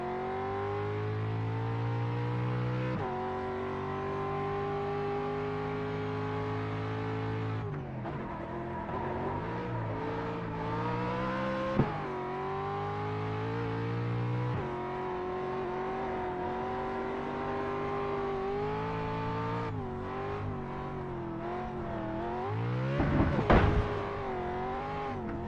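A race car engine in a racing video game holds a high, strained rev while drifting in second gear, its pitch wavering and sliding continuously across a long stretch, with a brief sharp crunch near the end.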